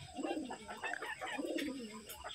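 Pigeons coo in soft, repeated low throaty phrases, several swelling notes close by with a steady hum of faint background noise, alone without talk.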